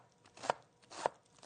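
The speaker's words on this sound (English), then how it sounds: "And then for this recipe, we're just going to cut them up to thin slices." Knife slicing leeks into thin slices on a cutting board, two crisp, quiet chops about half a second apart.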